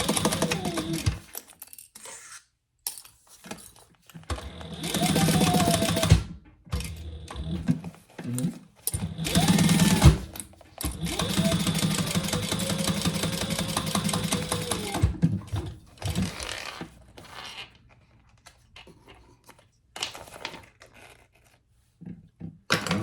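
A sewing machine stitches closed the bottom turning hole of a fabric glasses case. Its rapid rattling runs come in bursts of varying length, with pauses and handling noise between them.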